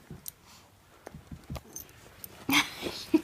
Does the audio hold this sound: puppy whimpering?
yes